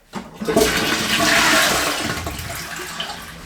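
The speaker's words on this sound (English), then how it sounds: "It's just a toilet, but it is a wall-mounted toilet." A wall-mounted toilet in a rebuilt mobile home bathroom flushes once, a loud close rush of water that swells quickly and then tapers into a gurgling refill.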